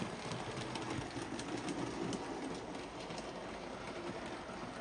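A steam locomotive hauling a short rake of ex-Gresley maroon coaches rolls past steadily, a loud continuous rumble and rattle of wheels and coaches with no talk.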